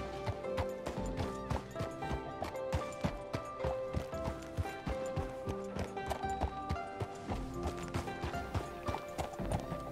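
Rhythmic horse hooves clip-clop steadily throughout in a video game, close and fairly loud, with a brief whinny-like tone and musical background underneath.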